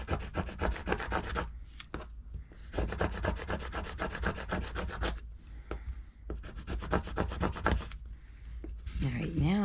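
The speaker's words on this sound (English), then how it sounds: "I'm going to flip this and burnish from this side as well." Repeated rubbing strokes of a burnishing tool pressing a stamp transfer onto a wooden puzzle block, steady and close, in bursts with short pauses, and a brief squeak at the end.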